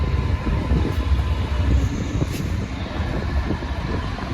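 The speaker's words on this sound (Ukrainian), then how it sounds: "Так, приїхав потяг." A train arriving at a station gives a continuous, loud rolling rumble with rattling wheel and carriage noise that holds steady throughout, with no voices over it.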